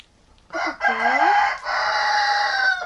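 A rooster crows close by in a snowy winter farmyard, a single long drawn-out call with a rising, harmonic-rich cry that holds steady before cutting off.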